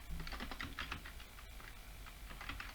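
Rapid, steady keystrokes on a computer keyboard as a parameter name is typed, close and clear with a continuous clicking rhythm and no talking.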